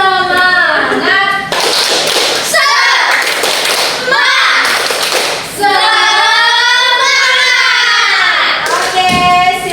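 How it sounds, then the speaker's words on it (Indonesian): Fourth-grade schoolchildren in a classroom clap out a rhythmic 'tepuk semangat' routine, bursts of sharp hand claps between their loud chanting and singing, close and lively. "Tepuk semangat."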